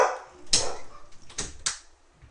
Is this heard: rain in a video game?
no